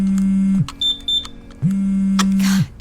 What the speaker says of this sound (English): It's angry because its battery is low.